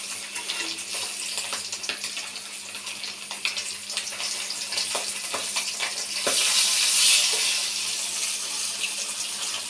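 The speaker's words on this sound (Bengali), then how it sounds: "সুন্দর হয়ে গেল মাছটা ভাজা।" Rohu fish fries in hot oil with a steady, close, rushing sizzle and scattered crackles, swelling louder and brighter for a couple of seconds near the end, with no talking.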